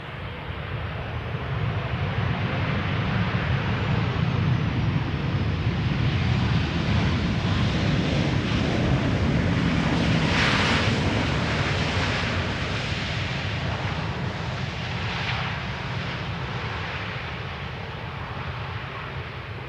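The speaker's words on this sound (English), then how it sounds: "an airplane arriving from London Heathrow, KLM flight 1002, 737-800, 737-900 behind it," A KLM Boeing 737 arriving on the Polderbaan runway at Schiphol, its jet roar a steady broadband rush that swells toward the middle and holds loud throughout, mixed with wind noise.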